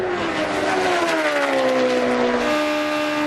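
A NASCAR stock car engine held at full throttle through turns one and two in qualifying, a loud sustained high-pitched roar with a slowly falling pitch as it passes, steady and alone without talk.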